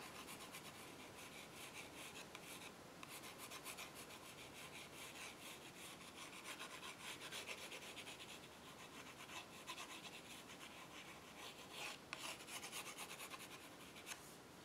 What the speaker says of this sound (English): Light pencil strokes.